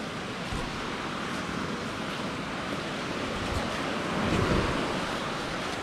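Continuous broadband wash of sea waves at Oarai beach, steady surf with a slight swell in loudness near the end, wind noise mixed in and no voices.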